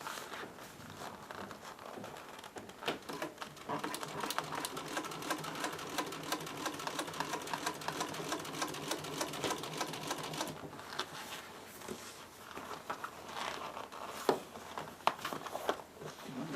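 Sewing machine stitching across a welt on a vintage bucket seat's upholstery, a steady rapid mechanical chatter that runs continuously with slight speed changes and brief pauses, close and fairly loud, no talking.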